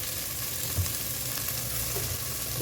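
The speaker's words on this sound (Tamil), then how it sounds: "வெங்காயம் போட்டுறேன்" Onions sizzle steadily in a hot pan, a continuous close frying hiss with small pops and a soft stirring bump, no voices.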